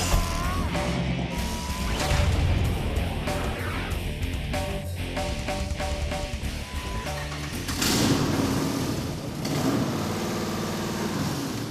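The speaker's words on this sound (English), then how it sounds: "that is the sound of the Hemi that we stuffed underneath the hood of our 2003 Jeep TJ" Hemi V8 swapped into a 2003 Jeep TJ revs loudly and steadily up close, its deep engine roar rising and surging throughout with crashing noise layered in.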